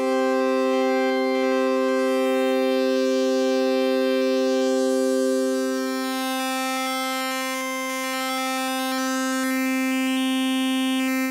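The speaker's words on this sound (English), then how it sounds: "With narrow displacement, we can create resonant sounds." Resonant synthesizer tones from Absynth with narrow fractal displacement hold as steady, loud, glassy harmonic drones, one lower partial dropping out midway while a faint shimmer flickers above, with no voices.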